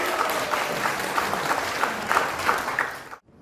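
Audience applause at a Democratic Party policy debate for county governor candidates in Gochang, a steady wash of many hands clapping that runs loud and unbroken for about three seconds, then cuts off abruptly into silence.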